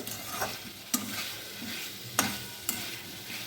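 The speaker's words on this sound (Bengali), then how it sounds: "এবার ভালো করে নাড়াচাড়া করে দিচ্ছি" A spoon stirs potato and vegetable curry frying in a pan, scraping with sharp periodic strokes over a constant close sizzle, with no voices.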